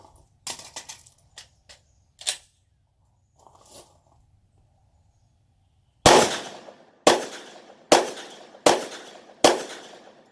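A 10mm polymer-frame pistol with a 22-pound recoil spring firing five 200-grain Underwood rounds, five loud, sharp shots evenly spaced about a second apart after some quieter handling clicks.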